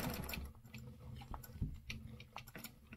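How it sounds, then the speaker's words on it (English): A sewing machine stitching a stencil, one layer over another, gives a faint, steady run of quick rhythmic clicks and whirring in a quiet room. "You're just going to stitch one over top of the other."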